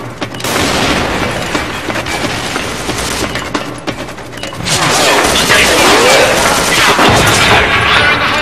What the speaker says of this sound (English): Grenade, take cover.